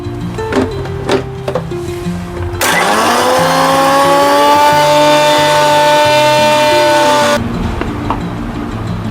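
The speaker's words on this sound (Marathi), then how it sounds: "आता मिक्सर मध्ये ग्राइंड करून घेते।" A mixer grinder blends green chutney with ice cubes: after a few knocks, a loud, steady whirring motor runs for about five seconds and then stops abruptly.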